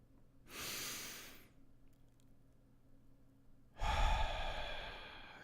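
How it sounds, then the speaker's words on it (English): Two slow, deep in-breaths during a guided meditation, each a soft airy rush lasting about a second, close to the microphone and separated by a quiet pause. "So let's just breathe in and fill up that area."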